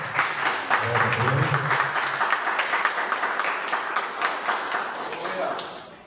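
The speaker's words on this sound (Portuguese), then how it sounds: "Salva de palmas pela glória do Senhor." Congregation at a church service applauding, a dense, steady wash of clapping from many hands that holds for several seconds, with voices mixed in.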